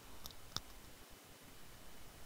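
A faint mouse click, then a single sharper click, followed by quiet background hiss.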